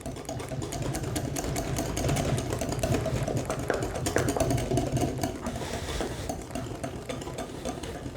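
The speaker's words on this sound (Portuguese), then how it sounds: "E vou bater por mais um minutinho para ele aumentar um pouco de volume." An electric mixer whirs steadily through cake batter of sugar, eggs and oil, a continuous close motor drone with a slight swell in the middle.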